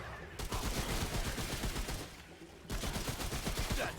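Sustained automatic gunfire from the video game Remnant From the Ashes rattles in dense rapid bursts with a brief lull partway through, loud and steady, with no speech over it.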